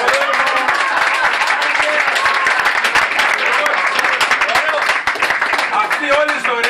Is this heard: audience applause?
yes